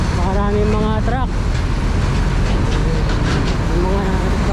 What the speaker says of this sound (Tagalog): Maraming mga truck.